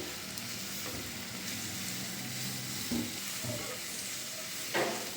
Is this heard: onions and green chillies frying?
yes